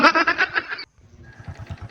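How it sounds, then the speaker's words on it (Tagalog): A neighbor's goat lets out one loud, close, wavering bleat, followed by quieter shuffling and rustling nearby. "At ito naman ang alaga kong kambing."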